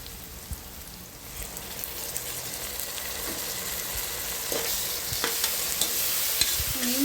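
Onions sauté to golden brown in a pan with ginger garlic paste for a tomato rice dish, a soft, steady sizzle broken by scattered pops and scrapes of stirring.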